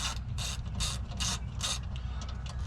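A ratchet turns 13mm bolts on a Toyota Supra radiator cover in a brief close run of rhythmic clicking strokes. A low steady hum sits beneath the clicks.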